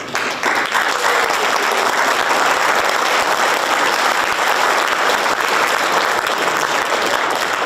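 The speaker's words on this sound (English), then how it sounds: "They deserve definitely another round of applause." Sustained, loud applause from an audience at a high school FFA awards event, even and continuous clapping filling the whole stretch.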